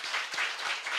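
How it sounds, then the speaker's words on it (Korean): Church congregation applauding after a shofar is blown, a short burst of dense hand clapping that pulses steadily at close range, with no voices over it. "박수 한번 칩시다"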